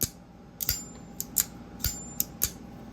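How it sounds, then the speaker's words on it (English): Several sharp mechanical clicks from a Winter Blade Co. Factor magnetic folding knife snapping shut, spaced irregularly over a quiet background, close and crisp. "You get a really nice click. It's almost like you're racking a shotgun when you close it."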